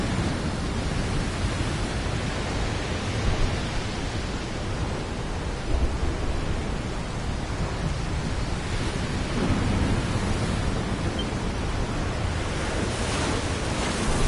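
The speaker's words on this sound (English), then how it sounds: "It's a wee bit stormy all of a sudden." Stormy weather at sea in a video game: a continuous, loud wash of crashing waves and rushing wind with rumbling thunder, steady throughout with no talk.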